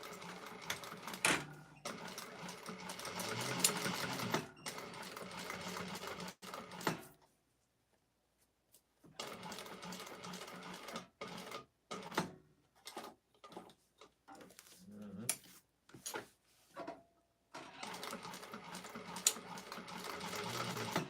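Sewing machine top stitching the seams of a clutch wallet interior, running in repeated close bursts of rapid mechanical chatter separated by short stops and one longer silent gap.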